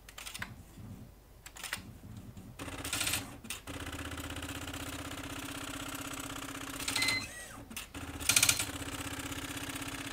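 IBM Wheelwriter electronic typewriter printing mid-restoration, a steady motorized hum with rapid mechanical clatter of the print mechanism and a few sharper bursts of carriage movement and clicks, close and alone.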